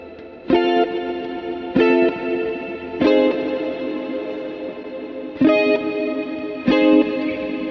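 Edited electric guitar part played back in Reaper, heavily effected with chorus, distortion and echo: five strummed chords ring out at a steady pace, each sustaining into the next, loud and up close with no voice.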